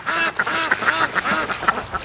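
Several ducks quack repeatedly as they draw near on a drizzly afternoon, a run of nasal calls in quick bursts, fairly close and loud with no talking.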